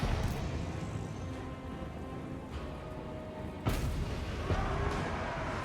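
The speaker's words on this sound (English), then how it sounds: "Cannon. Again?" Cannon artillery fire in the Total War Warhammer III strategy game: low rumbling battle din with a sharp boom near the middle and another fainter one later, over a steady background roar.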